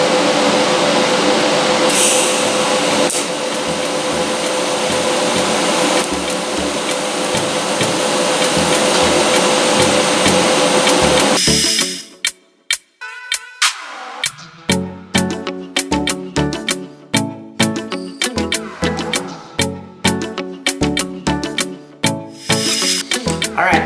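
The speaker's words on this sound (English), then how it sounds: "and I'll grind it down." An angle grinder works steel tack welds on welded plate forms for a 1971 Chevy Blazer patch panel, a loud continuous whine that breaks into choppy, rhythmic bursts of grinding against the metal.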